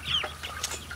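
Free-range chickens out of the coop for the first time, clucking softly on grass, with a brief higher call near the start, moderately close and continuous with no voices.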